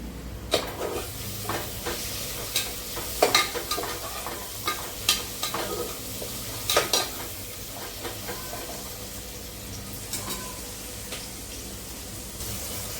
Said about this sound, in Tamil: வெங்காயம் நாங்கள் வெந்துக்கிட்டு இருக்கோம்